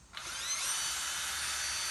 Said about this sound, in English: that's how you drill a bolt out